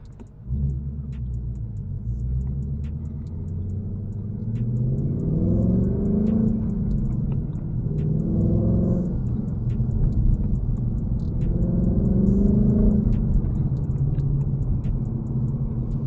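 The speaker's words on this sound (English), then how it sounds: "since it does have the active exhaust, it is a lot louder than the normal single tip exhaust" A 2024 Ford Mustang GT's V8 rumbles steadily through its active exhaust, close and loud, with several swelling rev surges over a constant low drone and no talking.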